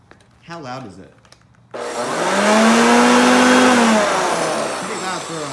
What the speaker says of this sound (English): Pretty loud for a vacuum.